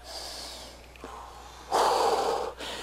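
Deep breathing during a morning athletic workout: a long slow inhale followed by a strong, noisy exhale through the mouth, close and clear, with a shorter breath at the end and no talking.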